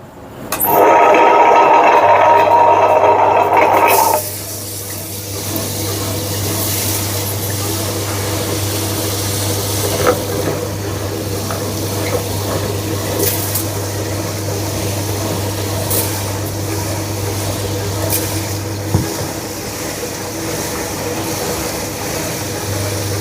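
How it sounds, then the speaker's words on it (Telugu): A wet grinder churns soaked ragi into idli batter, a steady low mechanical hum with water sloshing that runs continuously after a louder burst at the start. "ఇప్పుడు మనం గ్రైండింగ్ చేసుకుందాం"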